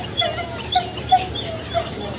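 A border dog on a seaside promenade in Sochi gives several short, high, thin whimpers in quick succession over a couple of seconds, against soft outdoor background noise.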